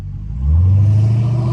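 A Dodge Hellcat with a mid muffler delete rumbles close and loud, its deep engine note swelling into a brief sustained rev.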